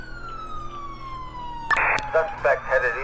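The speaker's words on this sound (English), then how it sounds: "We got an ambulance." Ambulance siren in GTA IV, a police patrol game set in Pennsylvania, heard as a steady tone that changes abruptly into a loud, close wail.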